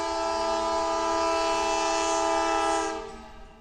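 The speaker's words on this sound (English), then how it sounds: "we see BNSF 5686 leading a transfer train. This is a GE AC 4400 CW built in March of 2004." A BNSF transfer freight train led by GE AC4400CW locomotive 5686, built in 2004, sounds its horn in a sustained loud multi-tone blast that cuts off near the end, with faint rail rumble beneath.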